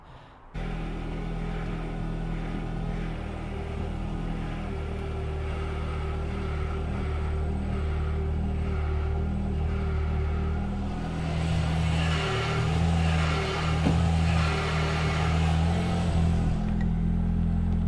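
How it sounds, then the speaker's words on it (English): A Ford Fiesta ST idling with a noisy power steering pump, a steady low rumble and faint whine up close that swells slightly toward the end, no talking. "It's the noisy power steering pump."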